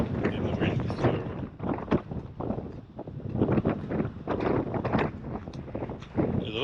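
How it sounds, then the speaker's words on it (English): Strong wind buffets the microphone outdoors in open country, a continuous low roar with gusts rising and falling throughout. "it is really windy and it's really hard to film in the wind"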